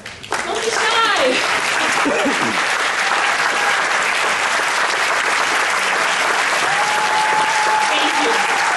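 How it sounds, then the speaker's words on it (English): A large crowd at an all-agency celebration applauds steadily for nearly nine seconds, loud and sustained, with scattered cheers and whoops over the clapping. "So please stand up and let us give you a round of applause."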